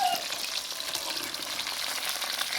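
Chicken 65 pieces fry in hot oil with a constant, dense crackling sizzle heard up close and without voices.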